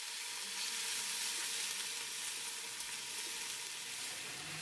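Ginger-garlic paste and a little water hit lightly browned onions frying in a pan, producing a steady, fairly faint sizzling hiss throughout, with no voices.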